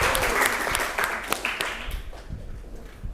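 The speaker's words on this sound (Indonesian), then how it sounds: "tepuk tangan untuk mahasiswa Fakultas Hukum Universitas Riau" A university lecture audience of law faculty students applauds at a public lecture, the clapping fairly dense at first and thinning out as it fades over a few seconds.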